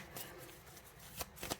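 Cards riffle in a few quick bursts, soft and close, with faint crackling flutters and quiet pauses between them.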